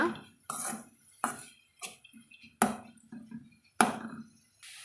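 Beetroot stir-fry being mixed with salt in a pan: six or so distinct spoon scrapes and clanks against metal, spaced under a second apart, with short quiet gaps between, no voices.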